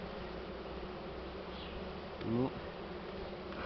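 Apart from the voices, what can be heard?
bees buzzing during honey extraction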